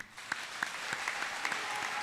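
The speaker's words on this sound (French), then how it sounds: "je vais vous demander de pouvoir applaudir papa Masambouki" A conference audience applauds Papa Masambukidi with dense, sustained clapping that fills the room at moderate distance, with a few sharper individual claps standing out in the wash.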